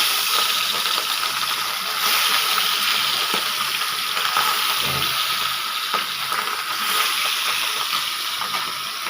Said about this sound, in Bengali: এখন আমি মাছগুলো হালকা করে ভেজে নেব